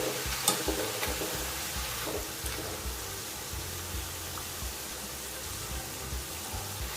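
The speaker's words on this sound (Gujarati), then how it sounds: "અહીં આપણા આ પાપડી ગાંઠિયા તળાઈને તૈયાર થઈ ગયા છે" Papdi gathiya, a Gujarati gram-flour farsan, deep-frying in hot oil gives a steady, dense sizzle and bubbling that runs the whole time at close range, with no one talking.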